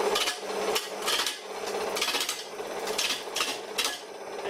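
A worn gouge on a home-built wooden wood lathe cuts into a spinning wood piece, giving a run of repeated scraping, knocking bursts at a steady rhythm, close and fairly loud with no talking.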